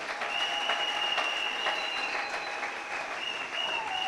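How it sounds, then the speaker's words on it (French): A church congregation at a Sunday sermon in Kananga applauds and acclaims the Lord, with sustained dense clapping and a high ringing tone over it throughout, no break in the noise. "Tu peux acclamer les seigneurs, j'avance."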